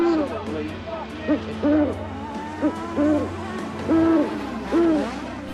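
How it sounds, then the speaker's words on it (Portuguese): An owl hoots repeatedly as an added sound effect, a series of clear, rounded hoots in an uneven rhythm over a low steady hum and faint background babble. "tirei a famosa coruja que ficava o tempo todo infernizando o vídeo"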